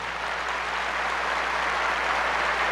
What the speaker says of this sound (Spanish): Démosle un fuerte aplauso.